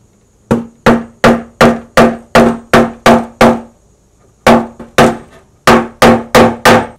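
Hammer blows smash down glue bumps on a wooden Go board under construction: two quick bursts of sharp, evenly spaced wooden knocks, close and loud, with a short pause between the runs.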